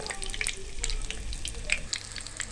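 Chicken shami kebabs frying in hot oil, a continuous close sizzle with scattered crackling pops and a low bubbling hiss throughout, no voices.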